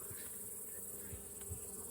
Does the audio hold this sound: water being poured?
no